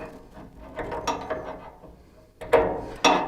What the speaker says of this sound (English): I'll just snug this up a little bit.